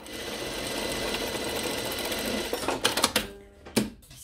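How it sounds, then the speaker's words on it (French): A sewing machine stitching a shirt sleeve, close and steady with a rapid mechanical whir that breaks into short stuttering bursts and clicks near the end. "je vais piquer juste la largeur de pied"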